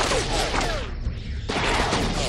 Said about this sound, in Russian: Открываю огонь!